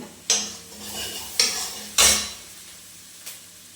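A tadka of spices crackles in hot mustard oil in a home Punjabi kitchen, with three sharp sizzling bursts that fade between them and one fainter burst near the end, all without speech.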